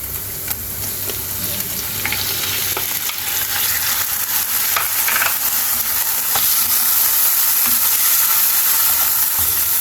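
Crushed ginger garlic paste fries loudly in a pan, a dense, close, unbroken sizzle with occasional clinks and scrapes of a spoon stirring through it.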